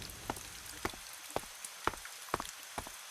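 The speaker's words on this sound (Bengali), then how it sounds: "বৃষ্টি শুরু হয়ে গেছে" Sparse raindrops in GTA 5 land as a few sharp, isolated taps spaced about half a second apart, quiet and fairly close, over a faint steady background.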